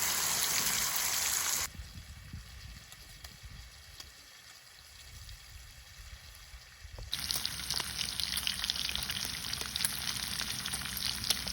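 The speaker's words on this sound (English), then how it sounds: "I'm gonna cook the bacon up first." Bacon fries in a heavy-handled pan on a camp stove, a steady broadband sizzle that is loud at first, drops to a quieter bubbling hiss in the middle, then swells back up loud for the rest, with no talking.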